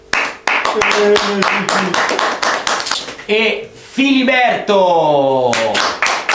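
Audience clapping breaks out in a rapid patter during an Italian couple interview, mixed with the host's talk, then gives way to continued conversation.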